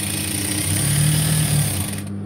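Sewing machine stitching through cotton fabric, a steady close mechanical hum with a fast rhythmic whir that runs continuously and then cuts off near the end.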